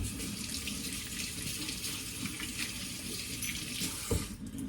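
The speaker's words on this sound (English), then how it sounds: "Okay, now let me wash my hands real quick." Tap water runs steadily into a sink while hands are washed in a kitchen during waffle making, a continuous moderate splashing rush with a brief bump near the end, no talking.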